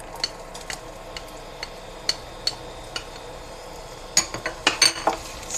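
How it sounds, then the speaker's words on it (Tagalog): Onions sautéed in a pan for bihon sotanghon guisado, heard as a run of light spatula taps and metallic clinks against the pan over a faint, steady background sizzle. "Okay, gisa na tayo ng sibuyas."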